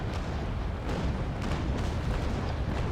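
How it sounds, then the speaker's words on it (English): Heavy cannon broadside from a ship in the Naval Action game, with a Trincomalee frigate facing the St. Pavel in a one-on-one battle. Dense, continuous low booming rumble, loud and sustained, with faint sharper reports on top. "Might as well fire the rest of my cannons."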